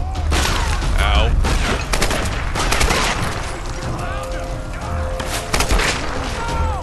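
Gunfire in Tomb Raider: Definitive Edition, dense rapid shots and booms layered over a constant loud backdrop of game noise, with no gap between them.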